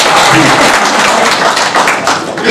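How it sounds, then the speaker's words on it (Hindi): Audience applause fills a mushaira hall, a dense, steady wash of many hands clapping at close range for about two and a half seconds, with faint crowd murmur mixed in. "ताली बजाओ।"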